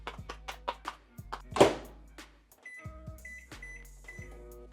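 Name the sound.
microwave oven heating a meal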